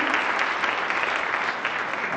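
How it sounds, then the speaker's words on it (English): Audience applause at a school district in-service day, a continuous, even roll of clapping from a crowded room, fairly loud and sustained without a break. "That should be a louder applause."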